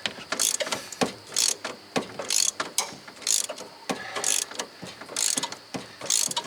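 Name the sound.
ratchet wrench clicking while removing a steering shaft bolt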